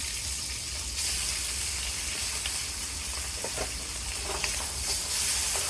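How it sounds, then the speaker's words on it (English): Squid frying in a pan for a Cantonese-style chow mein, a dense, steady hiss and sizzle close by with faint pops, no voices over it. "And then I got some squid."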